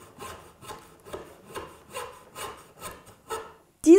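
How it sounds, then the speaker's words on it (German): A hand saw cuts a disc from a wooden log in steady back-and-forth strokes, about eight rasping passes close up with short pauses between them. "Davon säge ich mir eine möglichst gerade und gleichmäßige Scheibe ab."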